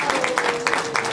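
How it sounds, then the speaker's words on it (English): Another round of applause at a conference gathering, a short burst of crowd clapping with distinct sharp hand claps over a constant low tonal hum. "Another round of applause for them, please."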